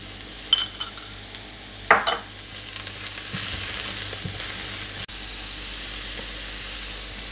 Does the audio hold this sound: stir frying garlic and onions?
yes